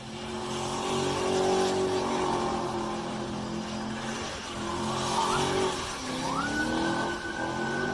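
A car spinning out on a road, heard as a loud continuous engine roar with a rising tonal whine and tire screech, followed near the end by a police siren sweeping in.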